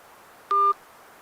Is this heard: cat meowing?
no